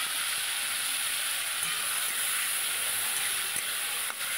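Chopped tomato dropped into hot oil with salt, turmeric and chili powder, giving a steady, moderately quiet sizzle and hiss that holds evenly without talk.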